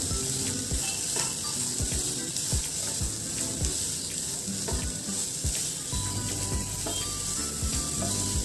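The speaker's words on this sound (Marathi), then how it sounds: "आता आपण यामध्ये शिमला मिरची व गाजर देखील घालून पुन्हा एकदा परतणार आहोत" Capsicum and carrot sautéing in a pan, a steady close sizzle of frying with repeated scraping and stirring taps from a spoon, no talk.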